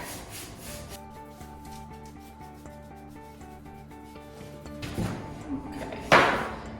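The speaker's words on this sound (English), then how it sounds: "Using the towel and just wiping off everything that comes up." A towel wipes stain off a wooden board for a DIY front porch sign, giving soft rubbing strokes close by under a faint background hum, ending in a few louder scrubbing swipes.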